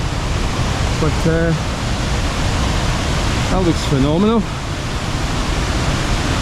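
Glenbranter Waterfall in the rain gives a steady, broad rush of falling water that stays constant throughout, with someone briefly talking over it.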